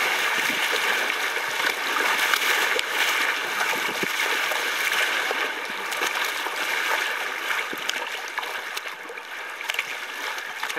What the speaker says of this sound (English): Some nice standing waves there to punch through.